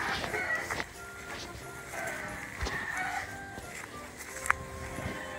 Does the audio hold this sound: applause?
no